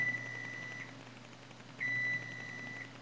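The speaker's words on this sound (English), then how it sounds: "the buzzer's going off, so that means that the macaroni is done" A kitchen timer sounds while macaroni cooks in a crock pot, giving two sustained electronic beeps separated by a short pause over a low appliance hum.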